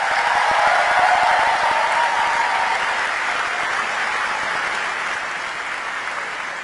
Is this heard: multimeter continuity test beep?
no